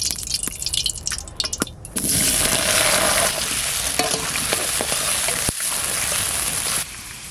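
Potato pieces dropped into hot mustard oil for a village-style Sundarbans crab curry, sharp clicks and splashes, then a loud, steady close sizzle of frying that continues with stirring.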